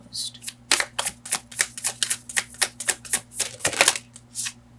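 Tarot cards shuffled by hand in a quick series of crisp riffling bursts, about a dozen sharp flutters close up against a low steady hum, with no talking.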